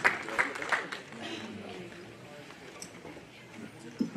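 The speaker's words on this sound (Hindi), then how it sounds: "तालियां बजाकर उनका इस्तकबाल करें" Audience applause welcoming a woman poet at an all-India women's mushaira, with claps strongest at the start, then fading into a murmuring crowd and scattered noise.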